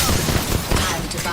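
Gunfire in Apex Legends, played as Ash, a short dense volley of rapid shots crackling loudly and close for about a second.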